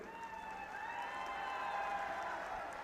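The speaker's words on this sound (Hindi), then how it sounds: "अभी आपने जल्दी ताली बजा दी" Audience applause at a political election rally in Haryana, a steady wash of many hands clapping at moderate distance with faint crowd noise, no one speaking over it.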